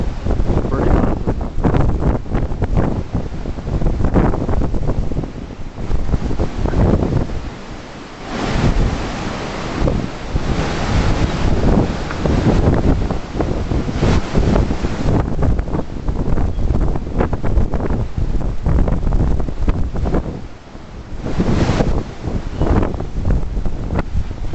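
Strong windstorm blowing near a shore with heavy surf, loud roaring gusts buffeting the microphone in surges and lulls over the crash of waves, continuous and close.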